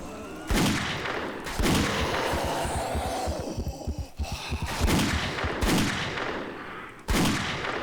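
Gunfire from the video game 7 Days To Die, several loud, sharp shots spaced a second or so apart, each with a ringing tail, over a steady background din.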